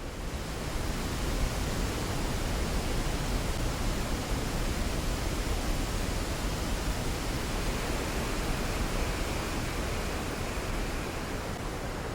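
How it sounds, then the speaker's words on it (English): The thunderous Augrabies Falls plunging into a gorge, heard as a constant, dense roar of rushing water, steady and unbroken throughout with no voices. "There they are at last, the thunderous falls."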